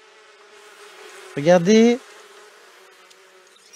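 Honeybees buzz briefly up close, a single loud droning burst of about half a second that rises out of a quiet background and then fades away.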